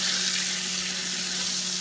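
Tilapia fillets sizzle and fry steadily in hot oil in a home kitchen, a continuous close, bright crackle with a low hum underneath and no talking.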